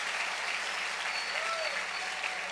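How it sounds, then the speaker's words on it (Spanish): A church congregation applauds during a service, a continuous dense roar of many hands clapping, steady and loud for the whole stretch, with faint voices mixed in. "dale otro aplauso al rey"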